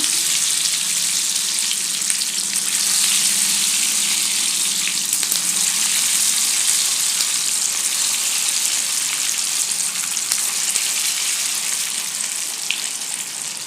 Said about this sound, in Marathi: आणि आता ह्या तेलात आपण वड्या घालून घेऊया